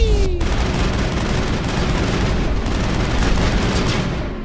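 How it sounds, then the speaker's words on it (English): Continuous heavy gunfire from Mass Effect, with a sniper rifle among the weapons, rattles loudly and densely throughout, with repeated bursts blending into a steady barrage over a whooshing effect at the start. "Gara's struggling with the sniper rifle there."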